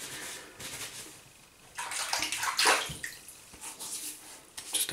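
Water splashes and trickles in bursts at a sink while shaving lather is being prepared, close and fairly quiet, with brief louder pours and drips.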